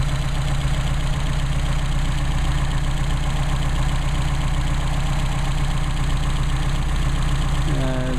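A Mercedes 190SL engine with Solex carburettors idles steadily and close by, a continuous low rumble with a faint high whine that holds even throughout.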